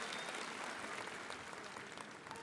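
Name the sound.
audience clapping for Vajpayee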